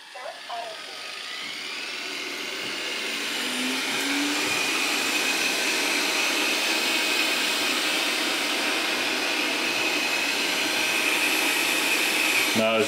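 An iHome AutoVac NOVA robot vacuum with a self-empty bin runs on a hardwood floor, its motor whirring up within a few seconds into a loud, steady drone that holds close by to the end.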